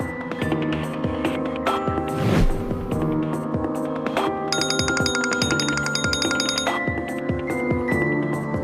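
A phone rings repeatedly in a steady electronic ringtone pattern, going on unanswered with a low hum underneath.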